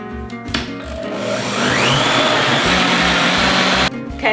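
Electric mixer whirring loudly and steadily as three eggs and pureed pumpkin are beaten into protein pancake batter, running continuously for several seconds before cutting off.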